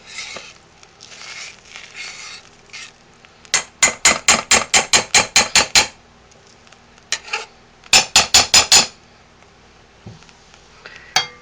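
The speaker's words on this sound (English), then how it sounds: "Now we're going to stir this soap one time at the hour point. Scrape down the sides." Homemade laundry soap stirred in a pot with the sides scraped, heard as two bursts of rapid, loud metallic knocks and clangs of a utensil against the pot, separated by quieter scraping.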